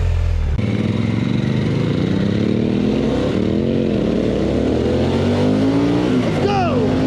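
A Harley-Davidson Pan America motorcycle engine revs loud and close as the rider pulls away, rising through several accelerating pitch sweeps, with an excited voice partly audible over the engine.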